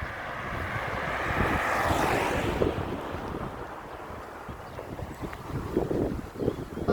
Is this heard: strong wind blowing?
yes